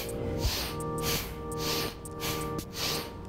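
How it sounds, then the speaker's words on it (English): Rapid, forceful bastrika yoga breaths pumped through the nose in a steady rhythm, close and loud, with sharp hissing bursts and no speech. "And we'll start the bastrika breathing."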